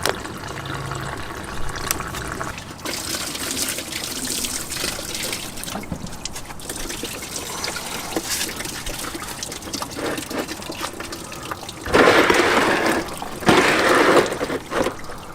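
Coolant draining from the radiator of an 88-98 Chevy C/K1500 pickup, a steady trickling, splashing flow that runs continuously and grows louder and fuller near the end.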